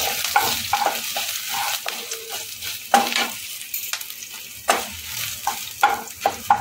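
Curry leaves and green chili frying in a pan, with a spoon stirring through them in repeated scraping strokes over a steady close sizzle; no voices.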